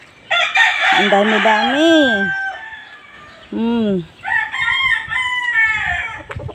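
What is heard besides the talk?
chickens on a farm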